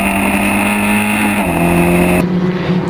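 Onboard a historic Formula Ford race car at Silverstone, the engine roars loud and close, holding a sustained drone whose pitch shifts down mid-clip and again near the end with a gear change.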